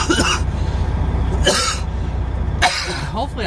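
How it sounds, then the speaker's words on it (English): A truck driver coughs three times in separate bursts, loud and close, over the constant low rumble of the truck cab. "Hopefully I'll get rid of this cough soon too."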